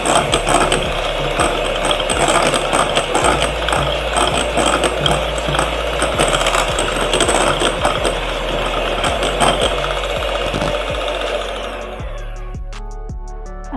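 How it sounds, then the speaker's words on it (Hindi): Eggs and sugar being beaten into green velvet cake batter with a steady, loud mechanical whirring and rattling that runs continuously, then fades and thins out near the end. "अंडे और चीनी को अच्छा सामने बीट कर लिया"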